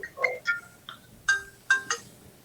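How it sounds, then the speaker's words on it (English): A telephone sounds an incoming-call ring, a few short electronic ringtone bursts in an irregular pattern, fairly close and clear, with no voices over it. "Getting a phone call."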